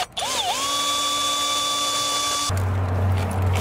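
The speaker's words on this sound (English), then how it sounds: "We're gonna start with this hole saw, poke a hole through it, maybe trim back the edges" A drill with a hole saw spins up and holds a steady high whine while cutting a shifter hole for an NV4500 transmission in a truck, then shifts into a lower, rougher grinding as the saw bites. It is close and loud, with no talking.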